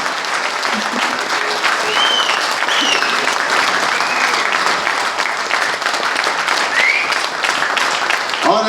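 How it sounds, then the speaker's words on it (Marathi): A crowd at an award celebration applauds steadily and loudly throughout, a dense unbroken clapping with a few faint voices and cheers mixed in. "जे शेर आहेत ते टाळ्या वाजवतील, जे मांजर हे आहेत ते वाजवणार नाही."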